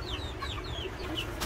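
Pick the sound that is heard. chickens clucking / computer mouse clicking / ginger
chickens clucking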